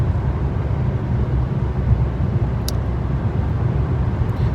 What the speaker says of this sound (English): Just driving.